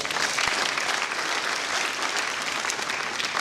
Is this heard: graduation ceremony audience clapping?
yes